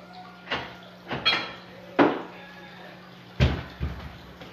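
A knife cuts through pieces of cake and taps against a plate, making about six soft clicks and clinks at an irregular pace, close and quiet against a faint steady hum.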